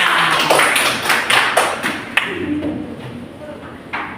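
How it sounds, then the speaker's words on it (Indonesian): Children in a classroom clap their hands in short, irregular bursts of sharp slaps, near and loud, with voices mixed in. "tepuk tangan."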